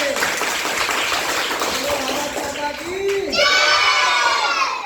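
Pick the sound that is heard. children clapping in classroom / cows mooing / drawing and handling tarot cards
children clapping in classroom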